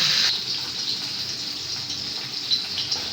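Water pouring steadily into a cooking pot to be boiled for fish soup, a loud continuous gushing splash with no talk.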